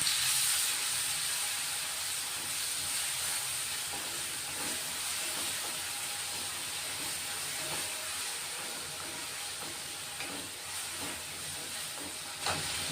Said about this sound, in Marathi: मिरची, लसूण आणि जिरे याचं वाटण करून घेतलंय, ते टाकून घेतोय. आता चांगलं परतून घेणार आहे त्याला.